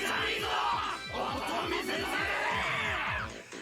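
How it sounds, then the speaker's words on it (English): A video game crowd at a Watanagashi festival scene cheers loudly and continuously, a dense roar of voices with rhythmic thumping underneath, fading slightly at the end. "The crowd went wild when they saw our conversation."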